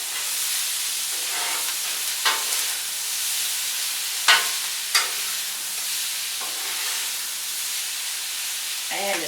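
Fajita vegetables, tomato and meat are stirred on a griddle under a loud, constant hiss of frying, broken by a few metal spatula scrapes and clanks.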